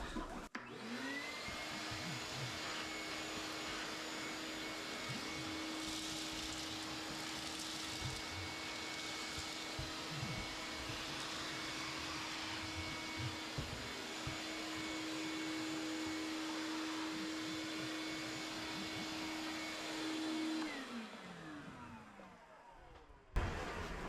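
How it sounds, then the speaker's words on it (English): A shop vac sucks up hay and guinea pig droppings from the coroplast base of a cage, a steady loud whining drone with a constant motor tone, rising at start-up and cutting off near the end. "we can go ahead and start sucking up all the poop in the hay that fell"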